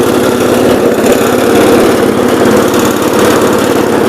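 A 1970 408 lawn tractor runs with its mower deck lowered, the engine chugging loud and close in a rapid, steady pulsing rhythm with a rattly mechanical edge.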